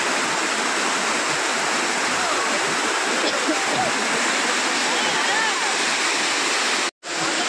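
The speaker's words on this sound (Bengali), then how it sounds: "পুরো জঙ্গলে, কোথা থেকে জল, এত জল আসছে।" A waterfall or stream rushing through a jungle, a loud, steady, close roar of flowing water that holds unbroken until a short cut near the end.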